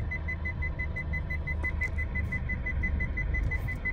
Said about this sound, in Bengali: কুকুর শুয়ে রয়েছে, তাই জন্য পিক পিক পিক পিক করছে।